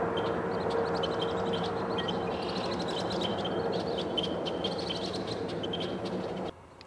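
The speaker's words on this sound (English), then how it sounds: "Listen to the clicking sounds of these birds." Birds give repeated sharp clicking calls out in open country with tumbleweeds, a busy scatter of clicks over steady wind-like background noise, with no talk.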